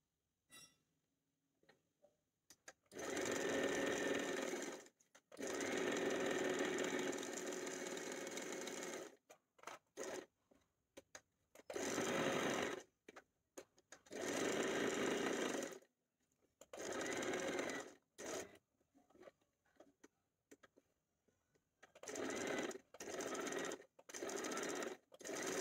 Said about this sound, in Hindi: अब मैं आपको दूसरी स्लीव को भी ऐसे ही स्टिच करके दिखाती हूँ।